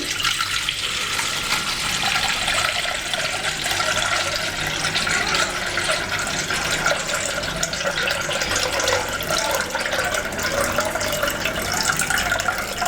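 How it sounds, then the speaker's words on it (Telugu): Water is poured over soaked rice rava in a bowl to wash it for soft idli batter and then drained off, making a continuous steady splashing and running sound, fairly close, with no voices. "ఈ నీళ్లు పోసి ఒకసారి ఇలా ఇది చేసుకుని మనం కడుక్కోవాలన్నమాట"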